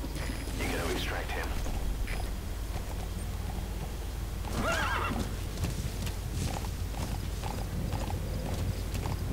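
Horse in Metal Gear Solid V: The Phantom Pain neighs and whinnies twice with a steady clip-clop of hooves throughout, under faint game ambience and mechanical clicks.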